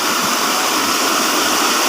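Water rushes steadily in a stream, a loud, even hiss of flowing water close by with no other sounds.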